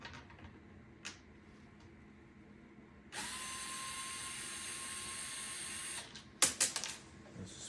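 Electric screwdriver whirring steadily for about three seconds as it undoes the single motor housing screw on the back of a Lasko 12-inch oscillating table fan, model FT30-8MBB, followed by a few sharp clicks and clatters of plastic parts.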